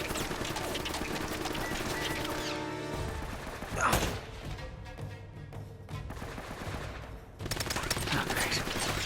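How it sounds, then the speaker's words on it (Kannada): Enemy gunfire crackles in Uncharted: Drake's Fortune, with rapid bursts and scattered shots over game ambience and a sharp impact near the middle. "ಹಾ ನೇಡಾಕೋಕೆ ಸ್ಟಾರ್ಟ್ ಮಾಡಿದ್ರು."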